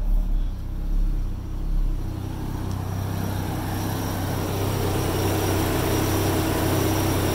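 A Mazda RX-7's air-conditioning compressor engages under a steady, close engine rumble, the drone thickening and holding evenly after a brief dip early on, with no voices.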